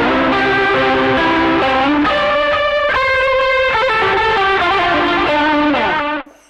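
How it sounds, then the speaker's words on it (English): Electric guitar run through the rotary speaker effect of a TC Electronic Plethora X3 pedal, loud sustained chords with a swirling, distorted shimmer, playing alone for about six seconds before cutting off abruptly. "it turns on the rotary"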